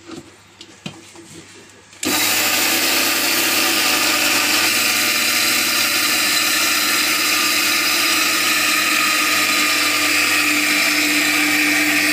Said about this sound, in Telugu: మిక్సీ పట్టేసుకొని ఆఫ్ చేసుకున్నానండి